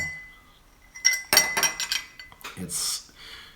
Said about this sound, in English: It's like kind of hard to stir with this spoon.